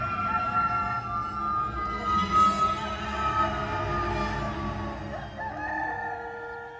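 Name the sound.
rooster crowing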